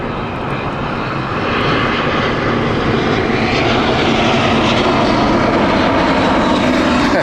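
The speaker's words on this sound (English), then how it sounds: "Inbound next is the Grenoble flight, the Airbus A320 from British Airways." A British Airways Airbus A320 lands on final approach at Heathrow, its loud, steady jet roar swelling and holding close overhead, with no voices.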